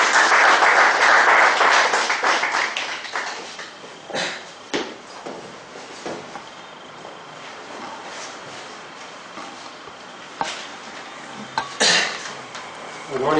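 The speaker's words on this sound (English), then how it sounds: "Let us welcome him with a big round of applause." A meeting audience at a speakers forum applauds loudly to welcome a speaker, the clapping fading within a few seconds into scattered coughs, sniffs and faint murmuring.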